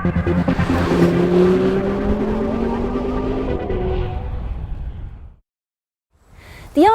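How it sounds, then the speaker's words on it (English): A 2013 Audi RS Q3 engine with its exhaust opened up in S mode, a loud throaty drone rising steadily in pitch under acceleration for about five seconds, then cutting off abruptly before a brief rev returns. "slip the transmission into S, and they'll open up the exhaust more,"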